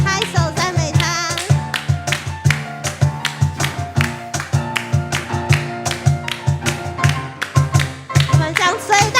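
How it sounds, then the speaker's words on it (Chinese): A church congregation at a midweek prayer meeting claps hands in praise, sharp claps landing in a steady rhythm over loud worship music with singing. "我们来拍手赞美他。"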